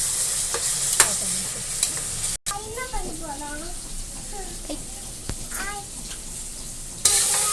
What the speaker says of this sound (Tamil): நல்லா பச்சை வாசனை போகிற வரைக்கும் நல்லா வதக்கிக்கலாம்.